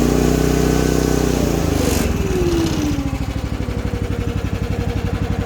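Hightop HT10 one-ton mini excavator engine running close by, a loud steady drone whose pitch drops partway through and settles into a lower, rhythmic idle with no talking.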